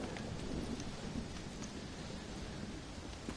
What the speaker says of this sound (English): it's just the storm